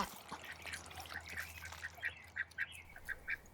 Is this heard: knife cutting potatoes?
no